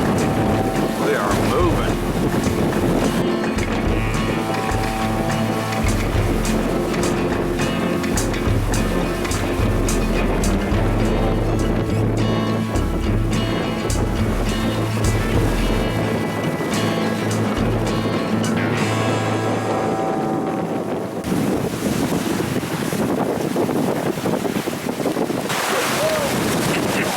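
A sailboat moves briskly through the water under reduced sail off Florida's panhandle coast, with steady wind rush, water wash and hull noise running loud and continuous throughout.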